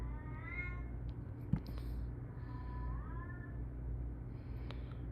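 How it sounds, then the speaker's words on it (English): A cat meows a few times from another room upstairs, each meow faint, drawn-out and rising, under a steady low background hum. "Is there a kitty stuck in a room upstairs?"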